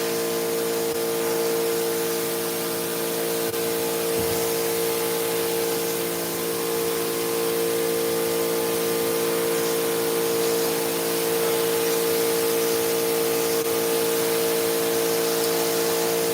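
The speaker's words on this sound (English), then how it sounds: "it looks like the power washing is working pretty well" A pressure washer sprays steadily on a rug's fringes, a continuous hissing spray over a constant pump and engine hum, with no break throughout.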